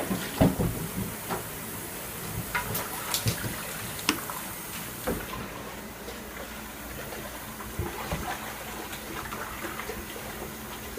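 Water runs and splashes inside a pot being rinsed out, with clanks and knocks of the pot early on, then a steady hiss of running water, fairly quiet and close.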